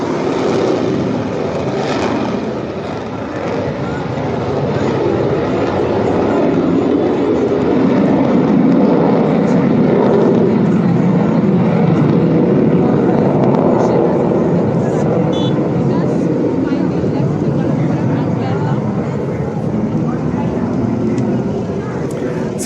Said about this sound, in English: So that is the F-35B taking off after 38 days on the ground in Kerala.